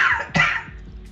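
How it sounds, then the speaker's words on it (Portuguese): A single sharp cough heard up close, short and dry, with a faint trailing breath after it and no speech. "Eu adorei essa tosse irônica no final."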